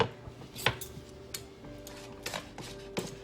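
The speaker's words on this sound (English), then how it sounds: "I'm going to dump this back into the crock pot." Shredded cooked chicken goes back into a crock pot with soft clinks, scrapes and taps of utensil on crockery, a scattered run of small knocks, close and fairly quiet with no talk.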